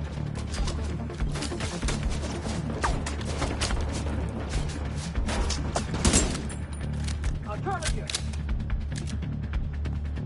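Gunfire in a SWAT-themed video game set in Washington DC, with rapid bursts of shots and clattering impacts over a low rumbling game soundtrack.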